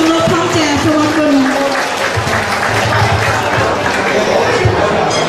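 An audience applauds loudly to welcome a speaker at an evening event, dense sustained clapping that fills the room, with a voice speaking briefly at the start.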